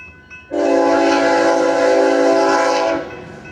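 A BNSF freight train in New Albany, Mississippi sounds its horn in one loud, close, sustained chord lasting about two and a half seconds, cutting in sharply and then fading into faint rail rumble.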